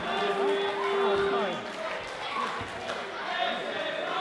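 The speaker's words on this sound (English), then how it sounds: "The crowd cheering, this is awesome" A wrestling show crowd roars in a steady, distant wash of cheering and chatter, with a commentator's voice running over it throughout.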